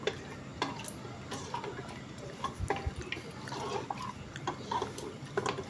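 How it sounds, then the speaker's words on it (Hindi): A spoon stirs meat roasting in a pan over medium heat, giving irregular scraping clicks and light taps against the metal over a soft, steady cooking hiss, fairly close and with no voices. "चम्मच इसमें चलाते रहेंगे, दरमियानी आग पे इसको भुनाई करेंगे"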